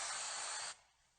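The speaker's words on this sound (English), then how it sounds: "prime the area with a spray can of KILZ or your favorite primer to seal the dusty" Short hiss of a KILZ primer spray can misting a drywall repair, a steady aerosol burst that cuts off sharply near the end, leaving quiet room tone.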